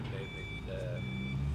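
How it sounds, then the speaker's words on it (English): Faint construction vehicle reversing beeps carry from distant building work, a steady high tone repeating under continuous low outdoor rumble. "If you hear the beeping in the background, they're doing some building work up the road"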